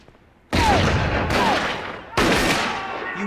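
Three loud, sharp gunshots from a handgun fired at close range, each with a long ringing decay; the first comes after a short quiet stretch, then two more follow about a second and a half apart.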